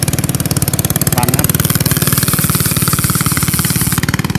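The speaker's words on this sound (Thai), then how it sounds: "เสียงเรือมาพอดีเลย" A loud, close boat engine chugs with a fast, even pulsing rhythm throughout, running steadily as it passes, with a brief voice speaking over it.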